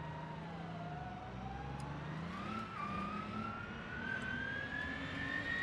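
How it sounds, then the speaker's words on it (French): City bus engine in the BeamNG.drive video game straining under acceleration, a droning, slowly rising mechanical whine with a strained low hum, steady and fairly quiet, with no voices. "Ouh là, le moteur là, il a du mal."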